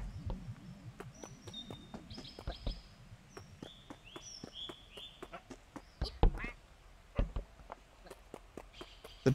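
Several short nasal duck quacks from the video game Trio of Treasures repeat over light clicks and taps, with no one talking.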